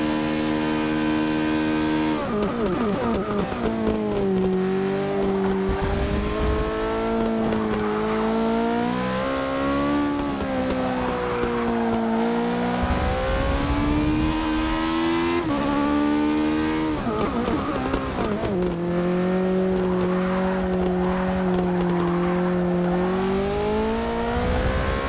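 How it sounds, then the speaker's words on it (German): Race car engine in the Forza Motorsport 6 driving game, from the Polo Red Car Pack, revving loud and continuous, rising and falling through gear changes over about twenty-five seconds with no talk. "der Sound von den Fahrzeugen ist wirklich wunderschön umgesetzt."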